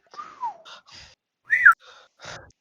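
A voice imitates an impressed whistle during a tabletop role-playing game session: a short, gliding tone that falls in pitch, followed by a few soft breathy vocal sounds. It is close and clear.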